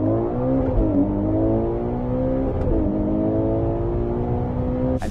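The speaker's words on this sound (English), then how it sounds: "Ferrari has even revealed what it sounds like" Ferrari Purosangue SUV engine revs with rising, layered harmonic tones that climb and settle, loud and close for several seconds before a sharp click at the end.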